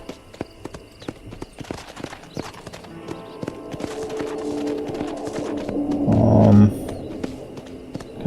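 Horse hooves clip-clop steadily in Red Dead Redemption as the rider approaches Fort Mercer, a rhythmic patter of repeated hoof strikes that gradually grows louder and quickens, ending in a brief louder burst.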